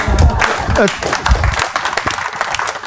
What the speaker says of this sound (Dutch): mensen, een applaus